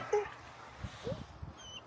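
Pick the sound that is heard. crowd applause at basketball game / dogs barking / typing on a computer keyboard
dogs barking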